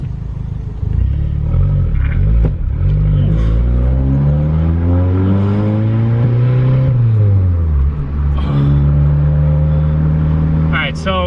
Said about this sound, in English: We go for the first test drive.